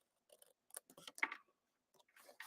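Scissors cut out paper boxes in a series of quiet, close snips and crisp paper rustles, with short gaps between the cuts.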